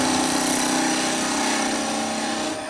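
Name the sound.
skew chisel making a planing cut on a wood lathe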